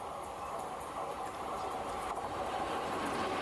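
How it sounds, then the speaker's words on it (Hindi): New aerodynamic locomotive train on a railway track in India, heard as a steady, dense roar of rolling rail noise without pauses. "ये बिल्कुल ही आज एक नया लोकोमोटिव है।"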